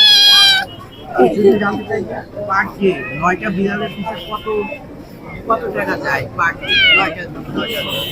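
Persian cats meow repeatedly at close range in a series of high, wavering cries with short pauses between them, over faint background noise.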